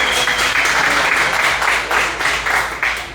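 A room of people at a Northside Democracy for America meeting claps in sustained, fairly loud applause with a steady pattering texture that fades slightly toward the end.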